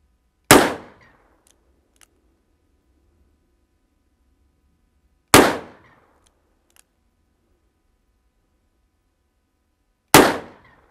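Three loud, sharp revolver shots from a Colt Anaconda fired single action and one-handed at an outdoor range, evenly spaced about five seconds apart, each with a quick decaying report.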